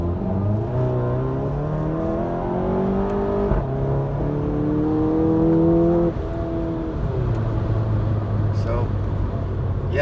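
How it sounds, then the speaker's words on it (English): A VW Golf GTI MK7 with a Cobb Stage 2 tune revs hard through gears in DSG sport mode, engine harmonics climbing steadily then dropping at each shift, heard from inside the car with a steady loud drone throughout. "it definitely holds the gear longer, which is good, right? Because it's more it's better revving"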